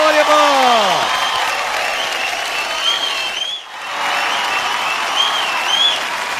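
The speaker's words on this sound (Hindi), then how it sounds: "give it up for Alia Bhatt." Loud audience applause and cheering for Bollywood actress Alia Bhatt on a televised comedy show stage, steady clapping with rising whoops and tonal sweeps over the top, briefly dipping before swelling again.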